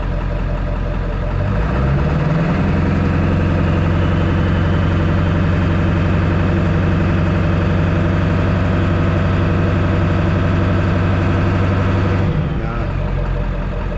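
A Ford 7.3 Powerstroke diesel engine idles loudly up close, then its steady hum rises as throttle is held for about ten seconds before dropping back to idle.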